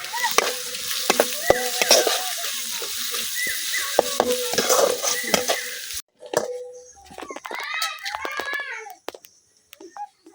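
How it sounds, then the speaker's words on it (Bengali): Sliced onions sizzle in a hot pan in a village kitchen in Bangladesh, with repeated scrapes and knocks of a spatula stirring them, while voices, including a child's, speak nearby and the frying continues alone afterward. "পেঁয়াজটা হালকা ভাজা হয়ে গেছে"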